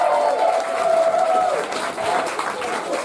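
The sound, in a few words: round of applause welcoming slam poet to stage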